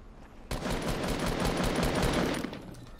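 Automatic rifle fire in Fortnite hammers out as a fast, even stream of loud shots lasting about two seconds, with no one talking over it.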